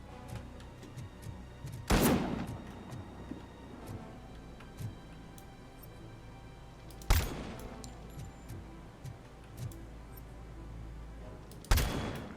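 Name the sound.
sniper rifle gunfire in Robocop: Rogue City video game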